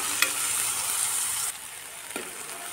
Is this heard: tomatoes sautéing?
yes